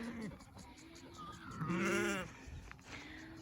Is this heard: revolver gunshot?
no